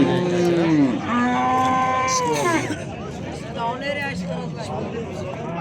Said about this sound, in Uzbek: Yaxshi sigir ekan.